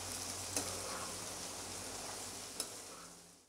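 Tomatoes being stirred into softened capsicum in a pan, a steady close sizzle of frying with a couple of sharp utensil knocks against the pan.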